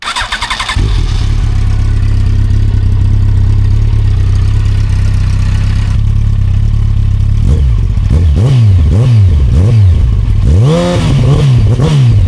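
A 2007 Yamaha FZ1 motorcycle engine restarting after maintenance, cranking and catching into a loud steady idle close by, then several sharp throttle blips rising and falling in pitch.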